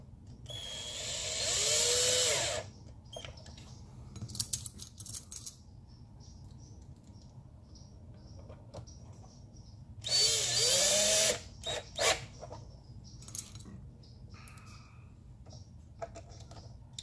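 Power drill driving self-tapping plastic screws into plastic, two loud whirring bursts of a couple of seconds each separated by quieter clicks and handling noises.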